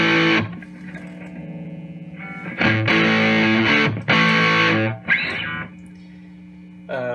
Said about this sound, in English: those are just a few of the basic rat tones